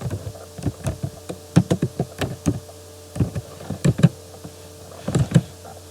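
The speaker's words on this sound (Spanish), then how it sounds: "vamos a teclear este comando: sudo apt" A command being typed on a computer keyboard in an Ubuntu terminal, close crisp key clicks in quick bursts with short pauses between groups of strokes.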